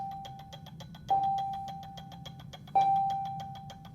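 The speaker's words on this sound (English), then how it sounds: "Waiting for that bell to be done." A timer bell for an iodine clock reaction rings twice in clean single tones over a steady ticking pulse, each ring decaying slowly in a quiet room with no voices.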